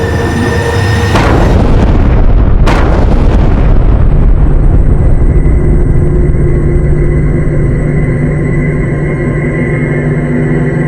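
A loud, sudden blast from gunpowder buried in the ground goes off up close, then a heavy, roaring rumble carries on long after the first burst.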